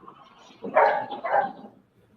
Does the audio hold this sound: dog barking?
yes